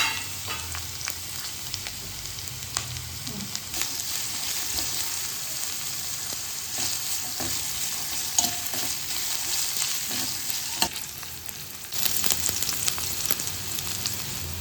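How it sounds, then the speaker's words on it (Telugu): Onion, carrot, capsicum and cabbage frying together in oil for veg noodles, a steady close sizzle with occasional stirring scrapes and clinks that carries on unbroken and swells louder near the end. "ఒక క్యాప్సికమ్, కొంచెం క్యాబేజ్ ఇది మొత్తం ఆయిల్ వేసుకొని వేగనివ్వాలి"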